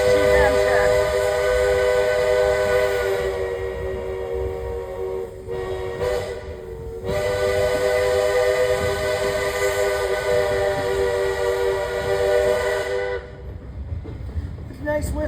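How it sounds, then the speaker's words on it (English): A Shay steam locomotive whistle at a railway museum blows in long sustained harmonic blasts, loud and close, with two brief breaks, over a low rumbling chug that continues after the whistle stops. "It's a nice whistle, actually."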